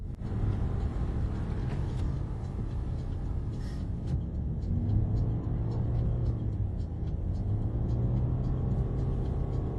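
A car cruises along a highway in Iran, with a steady interior road rumble and engine drone and faint rattles, continuous and fairly loud.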